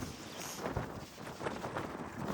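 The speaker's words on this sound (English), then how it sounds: "It's windy today." Gusty wind blowing outdoors on a homestead during spring onion planting, a loud rumbling buffeting across the microphone that swells and eases without pause, with no talking.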